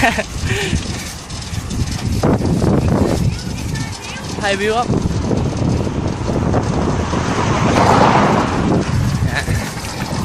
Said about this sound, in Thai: ไม่ลมมาแรงยังวะเนี่ย